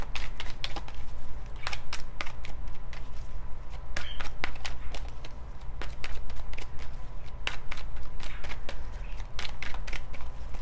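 Tarot cards shuffled and drawn during a reading, a continuous dense clatter of flicking card edges up close over a steady low background hum.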